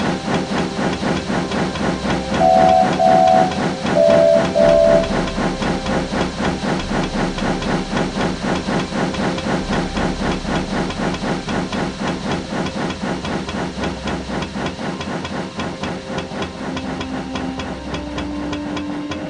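An American steam engine pulls away in a steady, loud, continuous chuffing with a fast rhythmic pulse and hiss, and two short whistle blasts sound early on.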